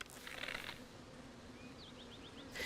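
Bees buzz faintly in Tears of the Kingdom, a low steady hum running beneath brief game tones and chirps.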